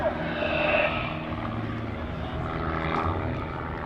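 A propeller airplane flies overhead during a comedy act at the 2024 New Garden Airshow, a steady buzzing engine drone that holds loud and continuous with no talk.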